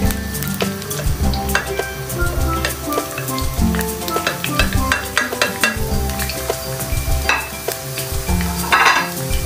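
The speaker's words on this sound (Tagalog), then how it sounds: "Okay, ilagay natin ang bawang." Chopped garlic sizzles hard in a frying pan as it is stirred and browned for a stir-fried pork intestine dish, a dense continuous crackle with scattered scrapes and clinks, over a steady musical backing.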